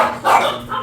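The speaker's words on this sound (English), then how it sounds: "Okay, so if you hear barking, please forgive me" A couple of quick dog barks, close and fairly loud, in a short burst.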